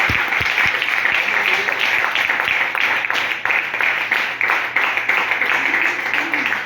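A church congregation applauding loudly, a dense wash of clapping that holds steady throughout, close and full, with no speech over it.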